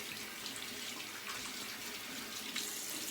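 Tap running for shaving lather, a continuous close hiss of flowing water that holds steady for about three seconds.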